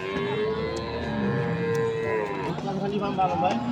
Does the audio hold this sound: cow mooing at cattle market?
yes